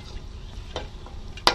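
Spices being fried and stirred in a pan, a low steady sizzle with a few soft scraping strokes and one sharper utensil clink near the end, no talking.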